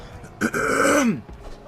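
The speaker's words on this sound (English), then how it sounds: "Sorry about that, had a cough." A single harsh throat-clearing cough, close and fairly loud, rising briefly out of quiet room noise.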